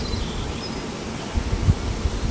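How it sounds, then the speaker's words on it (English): Honeybees in a hive box after a swarm give off a steady, close insect drone, low and continuous, with some faint handling bumps mixed in. "We've still got a lot of bees here in this box."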